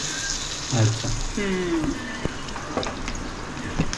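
Coated mackerel frying in a pan gives a crackling sizzle with a few spattering pops, heard beneath people talking nearby.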